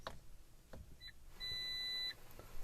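A Fiat 500 infotainment system answers steering wheel button presses with short electronic beeps and a longer steady tone, faint inside the car over quiet cabin noise.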